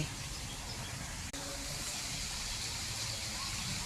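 A steady, broadband rush of falling water from a waterfall on temple grounds, constant and enveloping with no pauses or voices over it.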